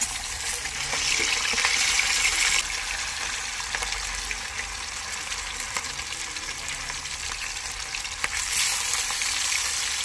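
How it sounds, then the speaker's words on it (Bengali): Pieces of fish are slid one by one into hot oil for a Bengali fish curry, producing a continuous bright sizzle that swells and eases, with small pops and clicks and no talking. "তেলটা ভালো এসছে, এবারে নিয়ে আমরা একে একে মাছের পিসগুলোকে দিয়ে দিই।"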